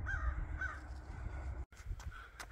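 Crows caw repeatedly while chasing a chicken hawk outdoors, several harsh calls rising over a steady low rumble of wind or traffic, with a brief dropout partway.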